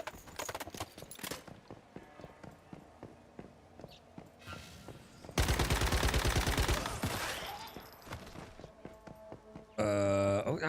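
Video game gunfire from a tier 5 gun, with bursts of rapid shots among clattering footsteps and effects, the loudest sustained barrage in the middle and another loud burst at the end.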